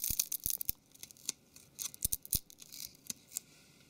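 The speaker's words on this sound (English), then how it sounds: "So now the adhesive is getting cold, it's getting more difficult to peel away." Cold adhesive being peeled off the screen of a Samsung Galaxy Ace S5830 phone: sharp, close crackling snaps and tearing bursts in an irregular rhythm, with quiet pauses between.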